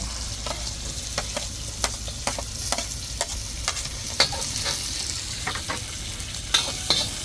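Onion and garlic sautéing in a pan, a steady close sizzle with sharp scraping stirs and clicks of a utensil on the pan recurring throughout; no talking.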